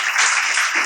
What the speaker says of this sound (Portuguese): E dê um aplauso bem forte ao Senhor.